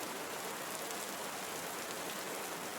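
Dense, even rain pours down in a Costa Rican forest, a loud, unbroken wash of drops with no other sounds.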